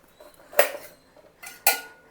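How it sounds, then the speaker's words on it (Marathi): A knife cuts thick green chillies in half on a board, giving two sharp, close chops about a second apart, with no talking. "देठ काढून टाकला आणि सरळ ह्याचे कापून 2 भाग करणार"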